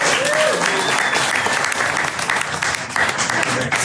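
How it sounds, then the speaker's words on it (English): Audience at a book launch party breaks into a loud, sustained round of applause, dense clapping continuing steadily for several seconds. "Round of applause."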